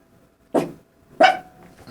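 A dog barks twice close by, two sharp separate woofs about half a second apart, loud against an otherwise quiet indoor room.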